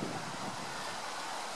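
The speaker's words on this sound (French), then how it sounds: "Il y a un peu de vent." Wind blows outdoors on a chilly day in Montgiscard, a steady low rush that buffets the microphone throughout, with no one speaking.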